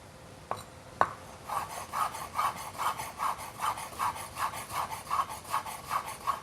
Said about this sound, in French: vous pouvez poser à plat le couteau comme ça, mettre vos mains à l'extrémité et dans un mouvement de va-et-vient, hacher le zeste